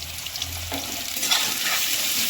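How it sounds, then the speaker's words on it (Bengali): Cut potatoes with a little salt and turmeric fry in hot oil, making a continuous close sizzle that swells slightly toward the end, with no voices over it. "আমি আলুগুলো আগে থেকে কেটে রেখেছিলাম, সেগুলো ভেজে নেব।"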